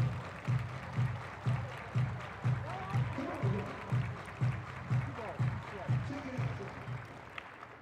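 Crowd at a professional softball game between the Chicago Bandits and USSSA Pride clapping in a steady rhythmic beat, repeated claps over continuous crowd noise and a commentator talking.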